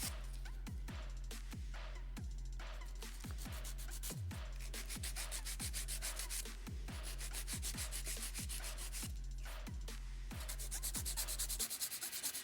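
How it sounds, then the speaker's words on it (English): A nail file rasps back and forth over acrylic nails in a steady, close rhythm of short strokes, repeating evenly with no talking. "Make sure when you are filing you get under the nail as well."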